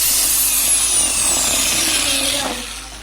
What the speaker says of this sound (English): So now let's drill a hole here at the center.